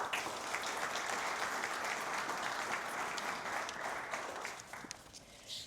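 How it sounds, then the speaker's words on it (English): An audience at a business collective talk gives a steady, warm round of applause, dense clapping sustained for several seconds before tapering slightly at the end. "A very warm round of applause."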